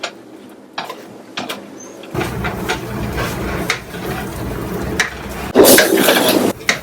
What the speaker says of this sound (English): So I'm just going to go through, stir the rice here.